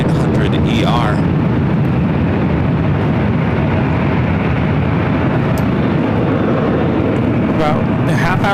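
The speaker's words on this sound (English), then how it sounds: "Next arrival here on the north side is Delta Airlines Flight 2096 coming from New Orleans." A Delta Airlines Boeing 737-900ER arriving at LAX gives a steady, loud, broadband jet roar that holds throughout, with faint higher whines near the start and end.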